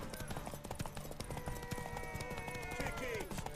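Horse hooves clip-clopping in a steady rhythm in The Witcher 3 video game, set against busy game ambience with a voice talking over it and a brief whinny-like tone near the end.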